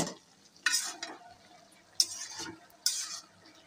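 Flat beans and tomatoes are stirred and fried in a pan for rohu fish curry. Three distinct stirring strokes each bring a short, bright burst of sizzle, with quiet frying in between.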